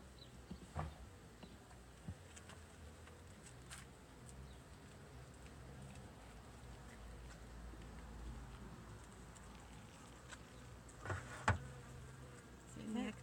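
A soft, continuous buzzing hum of many honeybees close by at an open hive during requeening, with occasional faint taps and rustles.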